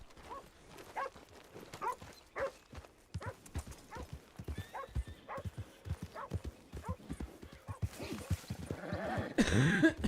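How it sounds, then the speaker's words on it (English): Horse hooves clip-clop in a steady, continuous rhythm with occasional neighing, plus some dog-like barks and speech mixed in. A louder burst of noise comes near the end. The sound comes from the game TRP. "Horse!"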